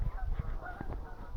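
Geese honking as they come in to land over a river, a few faint, scattered calls against low outdoor rumble.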